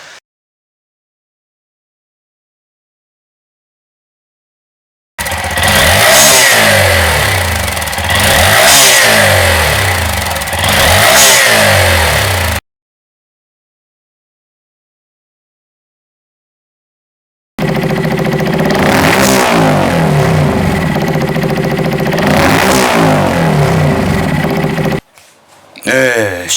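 A Honda Monkey motorcycle engine with a loud, deep aftermarket Akrapovič exhaust starts and revs in two long bursts, throaty and booming up close, separated by silence.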